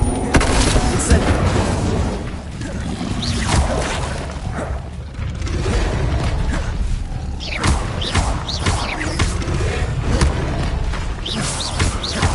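The Incendio fire spell is cast in the Hogwarts Legacy video game, a loud, sustained rush of booming, whooshing fire and thuds that fills the whole stretch over a low rumbling backdrop.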